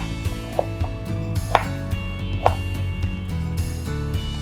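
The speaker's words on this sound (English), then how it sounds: "just slice your Lup Cheong" A knife slicing Lup Cheong Chinese sausage on a board makes a few distinct thuds spaced about a second apart over a steady background hum, close and moderately loud, no voices.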